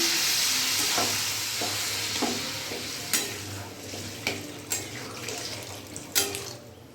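Water poured into a hot pan on a gas flame while cooking a vegetarian fig (dumur) curry, a steady loud sizzle that gradually fades, with a few sharp clinks of a utensil near the end.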